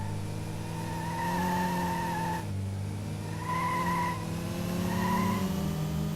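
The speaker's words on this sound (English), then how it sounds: "Yeah, my first drift." A car drifts with sustained tire squeal in the racing video game Metropolis Street Racer, engine droning steadily underneath as three separate squealing bursts rise and fall, fairly loud, with no talking.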